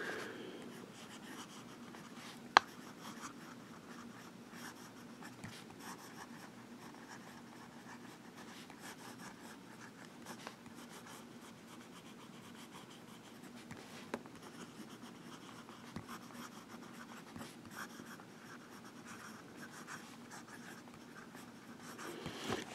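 Steel-nib Visconti Ragtime fountain pen writing on paper, a faint, continuous scratchy glide of the nib with occasional small taps and lifts, close and quiet with no talk.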